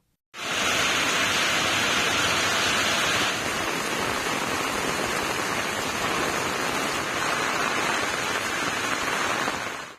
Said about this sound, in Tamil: 30 நிமிடங்களுக்கு மேலாக கனமழை பெய்தது